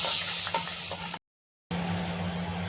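Chana dal and urad dal hissing in hot oil for traditional pulihora, a dense continuous sizzle close by, cut by a brief silent gap before the frying noise resumes, with no talk.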